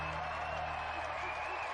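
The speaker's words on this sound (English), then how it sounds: "The crowd go wild." Crowd cheering and applause sound effect played during a live retro quiz and games stream, a dense steady roar of clapping and cheers filling the whole moment at an even, fairly loud level.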